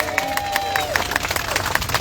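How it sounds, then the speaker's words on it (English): A crowd applauds with close, even bursts of clapping, and a few voices murmur underneath. "Give yourselves a round of applause for coming out here today."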